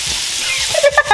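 Salmon searing in a hot pan, a steady close sizzling hiss that holds throughout, with a few brief crackles and pops near the end and no voices.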